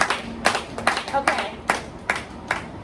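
An audience at a panel conversation claps in a loose, uneven series of sharp individual claps spread over a few seconds, with a brief spoken word.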